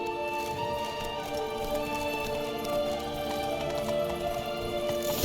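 Horse hooves clip-clopping at a steady gallop in the video game The Witcher 3, the rhythmic beats running continuously under a bed of game music, with no talk.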